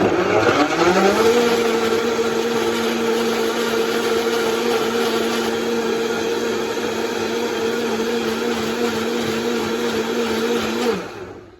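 A blender runs steadily, mixing a smoothie that includes okra, its strong motor whine holding a constant pitch for about eleven seconds before cutting off, loud and close with no talking.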